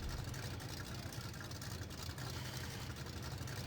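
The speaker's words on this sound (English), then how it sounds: "an idling engine" A dragster engine idles continuously at a constant pitch, a steady rumble, loud and unbroken for the whole stretch.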